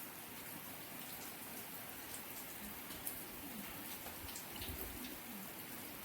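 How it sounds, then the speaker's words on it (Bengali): Heavy rain falling outside a window, a steady, faint wash of patter and hiss with no voices over it. "প্রচুর বৃষ্টি হচ্ছে"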